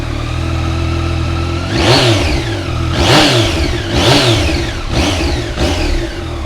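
Close and loud, a 2016 Yamaha MT09 three-cylinder motorcycle idles and then takes five sharp throttle blips, each rising and falling quickly before it settles back to idle.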